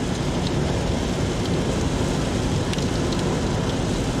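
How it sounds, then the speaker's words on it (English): Heavy rain pours down on a car driving a soggy road in a constant, dense roar, steady and loud with no pauses, drumming on the moving vehicle. "And the rain has increased."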